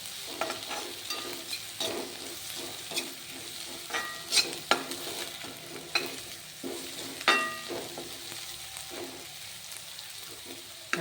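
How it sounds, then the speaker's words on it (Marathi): Finely chopped spring onion greens roasting in a pan for Khandeshi brinjal bharit: a quiet, steady sizzle broken by a series of sharp spoon scrapes and taps, close and faint. "तर ती कांद्याची पातसुद्धा आपल्याला याच्यात भाजून घ्यायची आहे अशी छान भाजून घ्यायची आहे"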